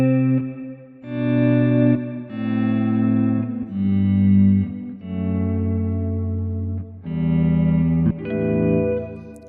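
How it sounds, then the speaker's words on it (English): Electric guitar runs through a Strymon BigSky reverb pedal on its Swell setting, producing a series of sustained chords that fade in slowly and blend into a lush, washing tail, loud and alone. "I can also go to a setting like the Swell over here, and then that's going to give me this kind of a sound."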